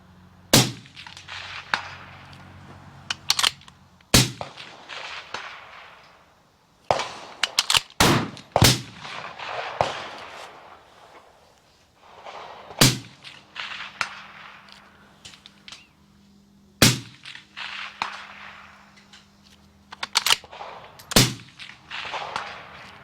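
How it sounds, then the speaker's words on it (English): A Uintah Precision UPR-15 rifle in .223 fires repeatedly at a silhouette target 300 yards out, each sharp, loud crack spaced several seconds apart with brief echoing tails, and no talking. "Shooting at 300 yards at a man-sized silhouette, it's a little too far for me to do headshots, but I'll try."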